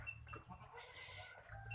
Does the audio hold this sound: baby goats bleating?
yes